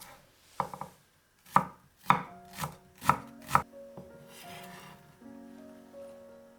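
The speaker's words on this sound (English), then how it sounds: "Mince 40 grams of shallots." A knife chops 40 grams of shallots on a cutting board, giving about six distinct, crisp taps spaced roughly half a second apart, close and fairly quiet, with light scraping afterward.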